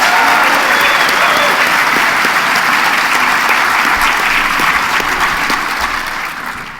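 Loud, dense applause from a large convention panel audience at PAX South 2015, steady throughout and tapering slightly at the end.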